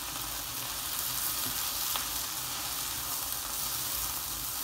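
Vegetables seasoned with black pepper fry in a pan, giving a steady, close, even sizzle that holds throughout with no voices.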